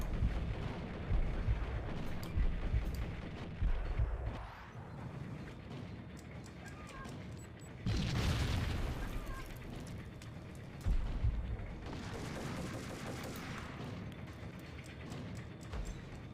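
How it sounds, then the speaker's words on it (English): Gunfire and explosive blasts from the video game Max Payne, dense booming bursts and crackling shots in repeated loud waves, with rumbling low-end impacts between them and no talking. "The gun sounds are horrible?"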